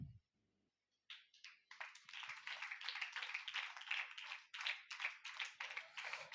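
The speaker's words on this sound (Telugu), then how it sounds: "అందరూ క్లాప్స్ కొడదాం గట్టిగా అమ్మా" An audience at a Sunday school prize giving at CSI Church, Ratnalagudem, breaks into sustained group clapping after a brief quiet moment, a dense, even patter that stays strong to the end.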